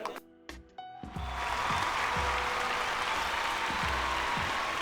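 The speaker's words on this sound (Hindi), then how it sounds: "जोरदार तालियों के साथ स्वागत रानी चटर्जी जी का" At a Bhojpuri film awards ceremony, the audience breaks into loud, sustained applause to welcome actress Rani Chatterjee. The dense clapping swells in after a brief musical sting, with a thumping music beat pulsing steadily underneath.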